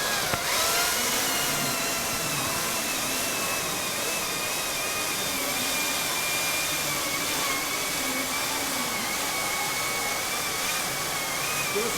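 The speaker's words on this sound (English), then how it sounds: "That's our 42cc equivalent gas chainsaw running on our 40-volt system" A Makita 40V Max XGT 12-inch top-handle battery chainsaw cutting through wood outdoors, a loud steady high-pitched whine held at full speed the whole time, close and alone with no talk.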